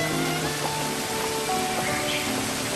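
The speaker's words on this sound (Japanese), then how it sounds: "会場1時間前に突然の雨" Sudden rain pours down steadily outside a church venue in Nagasaki, a constant close hiss of drops with faint tonal sounds woven through it.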